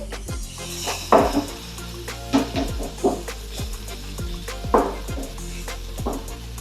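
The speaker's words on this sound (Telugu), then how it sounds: "నూనె పైకి తేలే వరకు లో ఫ్లేమ్లోనే ఒక ఫైవ్ టు సెవెన్ మినిట్స్ వరకు ఉడికించుకుందాం" Mountain knot grass curry with cumin and coriander powder simmering in oil over a low flame, a soft steady sizzle broken by occasional light clicks and utensil taps.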